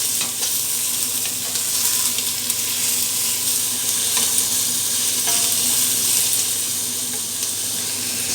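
Chicken pieces browning with onions in butter in a pan, a steady close sizzle running throughout with occasional stirring scrapes, no voices.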